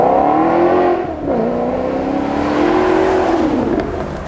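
A Maserati Gran Turismo MC's 4.7 litre V8 revs loudly and close at a supercar track event, a deep throaty drone that dips briefly between gears and then holds a steady roar.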